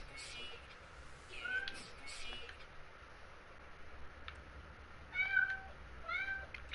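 A housecat meows repeatedly near a gaming session, rising drawn-out cries recurring in short bursts at the start and end amid faint background noise.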